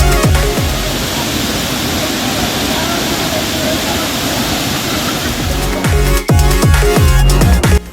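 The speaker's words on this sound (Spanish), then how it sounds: "Cascada Misoljá fue nuestro primer destino en esta región de Chiapas." Misol-Ha waterfall in the Chiapas jungle of Mexico roars with a loud, steady broadband rush of falling water, joined near the end by a run of sharp clicks and knocks.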